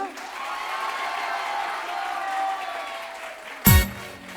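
Audience applause for a young girl's singing at a TV singing competition, a steady broad clatter of clapping lasting several seconds, then a short, louder burst near the end.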